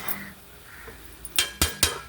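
A utensil stirs moong dal poha frying in a pan, with soft scraping followed by three sharp metallic clinks near the end, close and modest in level.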